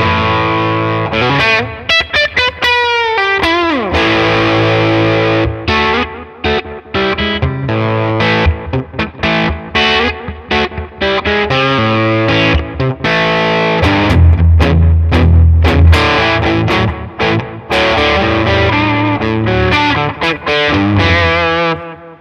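Electric guitar played through a Chupacabra overdrive pedal with the gain set halfway, giving a loud, aggressive distorted tone with strummed chords and single-note runs, carried along with heavy echo.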